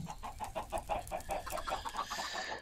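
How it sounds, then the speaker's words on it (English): Minecraft chickens clucking in a steady run of short, evenly paced calls, moderately loud and close, with no talking over them. "37 chickens, Aven."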